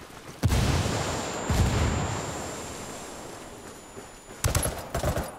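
Grenades go off in a video game firefight: several heavy booming blasts, one early, one mid-way and a cluster near the end, with rumbling decay between.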